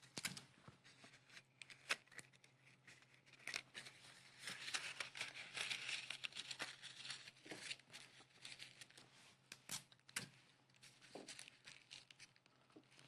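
Sheet of paper crinkled and pleated by hand into a round rosette for a July 4th decoration, a close, steady rustling and crackling with sharper crinkles throughout and no talk.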